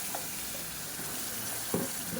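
Ground spice paste dropped into a pan of sautéed tomatoes for a tomato kuzhambu, sizzling and frying steadily while being stirred, with a sharp clatter near the end.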